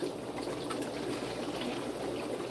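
Seasoned water poured from a 2-liter bottle into a fish fry tank, a steady close-up gush and trickle that holds an even level throughout with no pauses.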